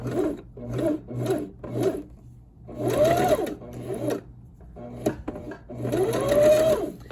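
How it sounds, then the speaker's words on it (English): A sewing machine runs close up, stay stitching a pleat on fabric. Several short bursts of whirring stitching come first, then longer runs, with pauses between them. "I'm just going to do some stay stitching here"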